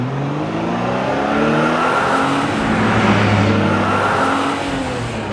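A car is driven at high speed, its engine droning loudly and steadily with a slowly rising pitch as it accelerates. No talking is heard over it.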